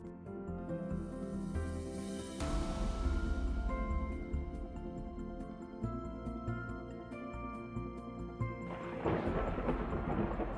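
A thunderstorm over the African savannah as the rainy season begins, with low rolling thunder and steady rain heard close and continuous, layered with a dense tonal backdrop of music.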